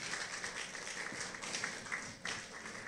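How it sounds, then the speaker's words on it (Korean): A church congregation at a Korean worship service claps for one another in celebration of 36 years, a soft, somewhat distant patter of scattered hands with a few sharper claps standing out. "우리 각자 보시면서 격려의 박수 한번"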